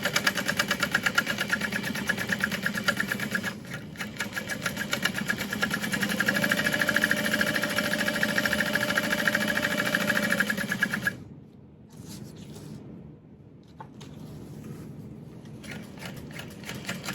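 A sewing machine bastes binding in place, running at a steady, close, humming whir for about eleven seconds with a slight change in pitch partway through, then stopping, followed by quieter handling sounds.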